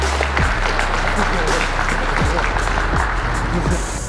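Applause from a combat sports event crowd after a fight won by submission, continuous clapping over a loud, reverberant hall with low thumps and background voices.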